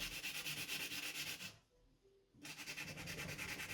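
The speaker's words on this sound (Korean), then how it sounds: "반대편 쪽도 샌딩 작업을 동일하게 해주면 되겠죠." Sanding an old wooden living room table by hand, a steady scratchy rubbing with a rhythmic back-and-forth pulse, close and fairly loud, pausing briefly in the middle before resuming.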